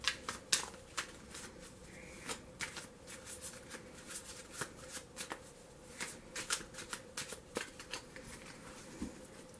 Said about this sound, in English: we'll gather all the cards together, we'll shuffle them up and deal 15 to each person